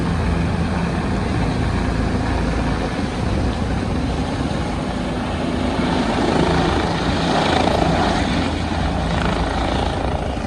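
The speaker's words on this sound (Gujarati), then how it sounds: "હેલિકોપ્ટર આવતું લાગે હેલિકોપ્ટર આવે કેમ જો" A helicopter drones steadily overhead at Kedarnath, a loud continuous rotor roar that swells slightly toward the end, with no talking.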